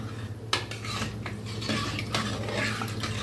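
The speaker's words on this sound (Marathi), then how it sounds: "पुन्हा मिक्स करूया डाळीला." A spoon clinks and scrapes against a metal pot in short, irregular strokes as thick dal is stirred, over a steady low hum.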